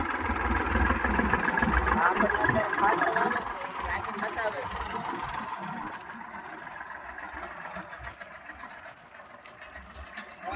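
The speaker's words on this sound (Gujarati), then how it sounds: "આ તમે જોઈ શકો છો મોટા ટ્રેક્ટરને છે" A large tractor engine chugs steadily nearby with a rattling mechanical knock, while someone speaks briefly over it.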